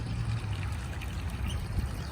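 A small brook trickles past cypress stumps as it flows out of a hillside, making a steady, close, gentle babble of running water with no voices.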